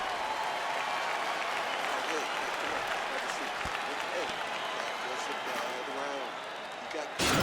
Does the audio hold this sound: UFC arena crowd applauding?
yes